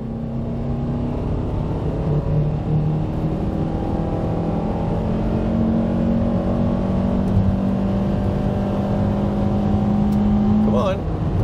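Honda car engine accelerating steadily with a sustained drone whose pitch climbs slowly, consistent with a transmission slow to shift up, loud and close throughout.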